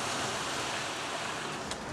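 Sea surf washes steadily onto a black volcanic sand beach in Sicily, a broad continuous hiss with light wind, fairly faint and without voices.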